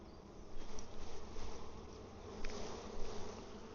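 Honey bees buzz around an open hive during a honey super check, a dense steady drone of many insects close by, rising and falling slightly, with no talk.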